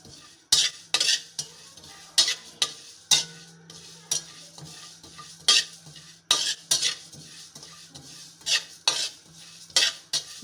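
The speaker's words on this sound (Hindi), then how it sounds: "हमारी जो सौंफ है वो एक किस्म की भुन चुकी है।" Fennel seeds are dry-roasted in a pan while a spoon stirs and scrapes them, giving loud repeated scraping strokes at an uneven rhythm over a faint steady hum, with no talking.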